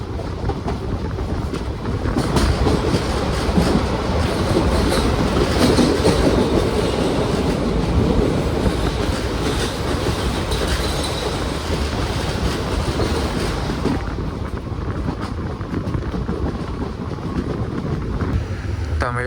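A Trivandrum North–Nagercoil passenger train runs and then brakes into Kuzhithurai West station, a loud, continuous rolling roar with rattling wheel clatter that eases off near the end, while a person talks over it.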